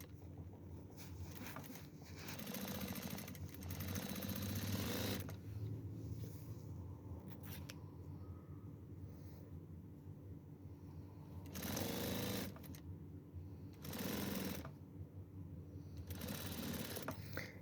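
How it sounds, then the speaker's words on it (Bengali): Sewing machine stitching curtain fabric, close and fast, running in several bursts of rapid mechanical chatter separated by short quieter pauses, with no talking. "এইভাবে সেলাইতে হয় অন্যভাবে সেলান যায় কিন্তু এইভাবে সেলাই সহজ হয়"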